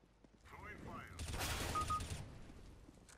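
A short burst of rapid gunfire rings out in Counter-Strike: Global Offensive, with a moderately close rattle of shots in the middle and faint ambient game sounds before and after.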